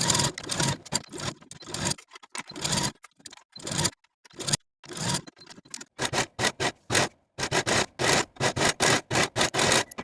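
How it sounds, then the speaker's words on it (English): A domestic sewing machine stitches a lace skirt onto a dress bodice in repeated short, close whirring runs, separated by brief stops, quickening into a steady stop-start rhythm toward the end. "we're going to sew the skirt to the bottom of the bodice all the way across from center back to center back with a 5/8 inch seam allowance"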